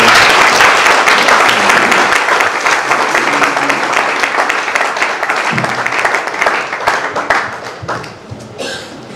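An audience at an evening church gathering applauds and cheers as a couple is called forward. The clapping is dense at first and thins over time, with scattered coughs and a few voices mixed in.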